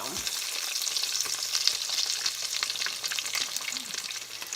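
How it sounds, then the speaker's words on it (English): Small taco bundles deep-frying in hot oil give a steady, dense sizzle and crackle throughout, close and fairly loud, with no talking. "get your little bundles of taco and down in your oil to fry till it's golden brown"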